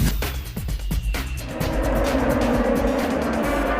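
Euro JK16 single-seater race cars roar past on a circuit during a National Racing Championship race, with loud engines and rapid gear shifts as the pitch drops and climbs again.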